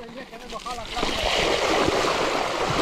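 Abundant water rushes through a ravine in a steady, broad hiss that swells up after a brief stretch of talking and then carries on loud and unbroken.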